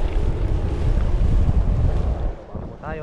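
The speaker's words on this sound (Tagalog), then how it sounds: "Medyo mahangin nga lang na konti." Strong wind buffets the microphone aboard a small fishing boat at sea, a steady loud roar over engine and water rumble, with a faint voice near the end.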